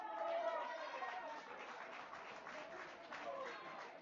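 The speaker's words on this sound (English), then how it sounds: "And a smattering of applause for the effort there for Seth Height" Light, scattered applause from spectators at a high school state championship lacrosse game, a thin patter of clapping lasting several seconds under crowd chatter and a commentator's voice.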